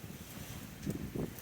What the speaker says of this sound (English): Yeah, it's a little windy here